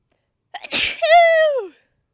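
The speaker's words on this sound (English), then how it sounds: "I sneeze." A person sneezing outdoors in sunny desert heat, a sharp sniffing intake followed by a single loud, close, tonal explosive sneeze that trails off, with no other sound around it.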